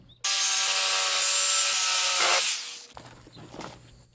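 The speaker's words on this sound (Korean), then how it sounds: "이걸 45도로 직소로 자르기에는 삐뚤삐뚤할 수가 있으니까 여기다가 직각자를 대고 이 면을 따라서 자르게 되면 아무래도 반듯하게 잘라지겠죠?" A jigsaw cuts a 45-degree bevel through wood, guided along a square, in one loud, continuous buzzing rasp lasting a little over two seconds, then winding down to quiet handling noise with no talking.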